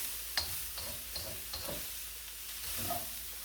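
Vegetables and cabbage stir-fry fast over high heat in a hot pan, giving a steady sizzle broken by soft scraping and stirring taps.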